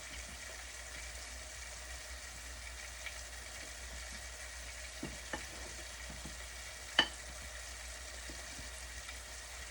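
Steady low sizzling hiss of tilapia frying in a pan, with a few faint clicks and taps over the constant crackle.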